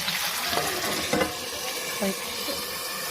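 Steady sizzling of meat frying in a pan, with a few stirring scrapes and clatters throughout; close and fairly loud, no voices.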